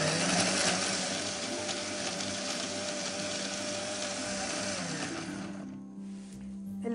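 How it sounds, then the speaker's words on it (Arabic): A blender runs steadily, whirring as it purees dates with milk and a few drops of rose water into a smooth drink, then winds down toward the end. "أشغل الخلاط لغاية ما يصير عندي شراب ناعم جدا."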